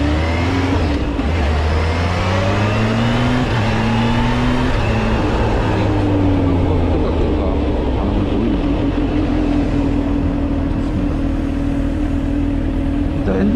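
A stock Kawasaki Z H2 motorcycle engine revs and drones steadily up close, its pitch rising and falling through several gear-like sweeps over constant rumbling.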